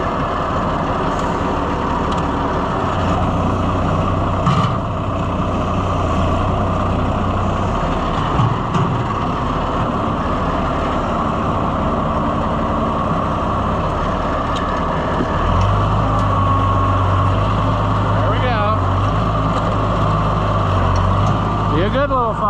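An Oliver 550 diesel tractor engine runs close by with a steady, loud, low rumble throughout, its pitch shifting as the revs change partway through.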